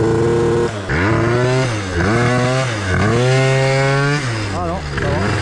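A Piaggio Zip scooter fitted with an Athena 70 racing kit engine revs hard and close, with its pitch rising and falling through several repeated throttle blips and one sharp flutter near the end.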